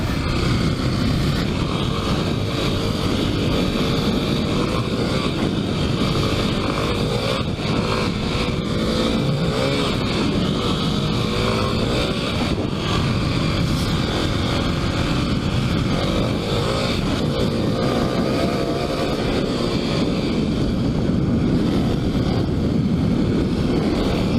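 A Kawasaki KLX300 dual-sport motorcycle on Tusk DSport and Pirelli MT21 tires ridden on trails, a continuous loud engine drone with rising and falling revs under heavy wind buffeting, close throughout.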